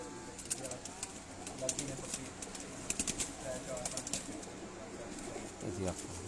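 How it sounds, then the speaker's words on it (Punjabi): Golden sharmile pigeons on a rooftop loft, soft repeated cooing and occasional wing flaps, faint and close, with people talking over them. "ਗੋਲਡਨ ਸ਼ਰਮੀਲੇ ਕਬੂਤਰ"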